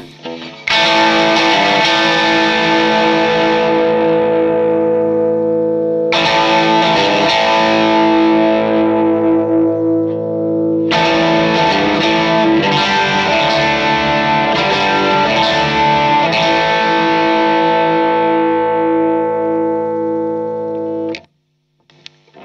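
An electric guitar runs through a Cornerstone Antique overdrive stacked with a Tube Screamer 808 pedal, playing loud, sustained distorted chords in three long strummed phrases with ringing decay and no talking.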